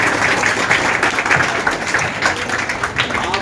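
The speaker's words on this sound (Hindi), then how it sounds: "जोरदार ताली।" An audience gives loud applause at a public gathering, a dense burst of close clapping lasting a few seconds.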